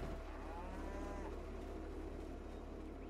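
Cows mooing in the farming video game Farming Simulator 22, one long drawn-out low moo rising and falling over about three seconds, fairly faint against a steady low hum.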